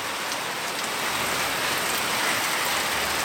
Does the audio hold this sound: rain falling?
yes